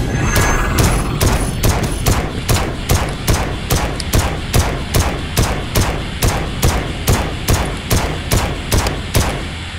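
Rapid gunfire from a robot shooting video game, loud, with regular bursts of shots repeating steadily for about ten seconds and no talking over it.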